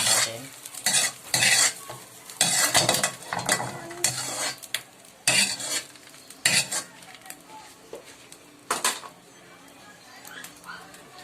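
A utensil scrapes and stirs egg being scrambled in a sizzling pan while cooking chicken pares, with irregular clatters and scrapes, close up and alone.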